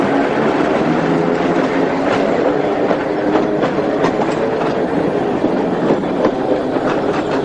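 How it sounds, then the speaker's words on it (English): A tram rides through a museum, with a steady, loud rumble of wheels on track and rhythmic clickety-clack joints under a continuous rolling roar heard from on board. "There are not many museums which you can ride around in a tram."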